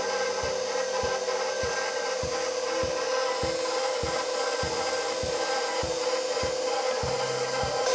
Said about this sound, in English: You want to use your spatula to make sure you get all the yeast out of the pan.